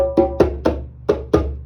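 Deadened djembe slaps played with the fingers left resting on the skin, five short, muted hits in an uneven rhythm, close and moderately loud with a damped, choked ring over a steady low hum.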